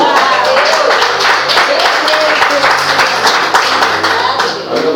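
A church congregation claps during a sermon, a full, steady round of hand claps at close range with voices blending in underneath.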